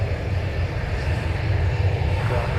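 Airplane at MSP airport throttling up, a steady low engine roar with broad rushing noise that swells slightly toward the end, heard from a distance.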